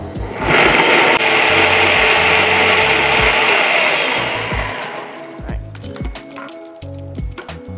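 Food processor chopping tomatoes for butter chicken sauce, a loud whirring buzz running for several seconds before it stops, followed by clicks and light clatter.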